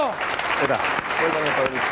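A short burst of clapping and cheering from a late-night comedy talk show studio audience, mixed with a voice speaking Spanish over it.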